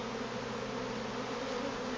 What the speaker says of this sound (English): we have to make sure and brush the bees off because they could be squished in this process